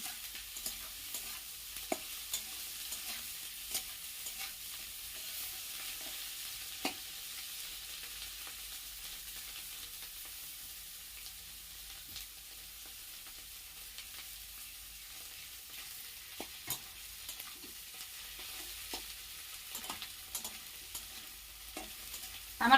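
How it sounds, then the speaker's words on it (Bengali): Turmeric and spices fry quietly in a pan, giving a soft continuous sizzle broken by occasional scraping stirs, with no talk. "এটাকে আমি একটু ভালো করে ভেজে নেব।"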